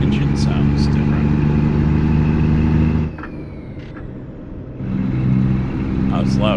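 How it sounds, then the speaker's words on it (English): Truck engine idling and revving in a driving video game, a loud, steady low drone that drops briefly partway through before building again, with someone talking over it. "Engine sounds different."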